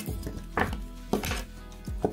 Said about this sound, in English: so now I'm just chopping it. It's just a rough chop.